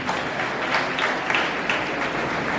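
A crowd at a candle lighting event applauds a senior school, dense continuous clapping that holds steady and fairly loud from start to finish with no voices over it.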